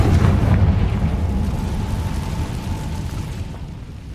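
A Confringo blasting spell detonating in Hogwarts Legacy: a loud, close, low explosive boom that rumbles and slowly fades over several seconds.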